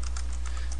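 Rapid keystrokes on a computer keyboard tap quickly and evenly in a short burst, close up over a low steady hum.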